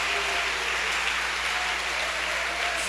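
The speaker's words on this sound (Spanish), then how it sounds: "¿cuánto le damos un aplauso al Señor?" A church congregation applauding for the Lord, producing a steady, dense, rain-like patter of many hands clapping at an even level from start to end, with no talking.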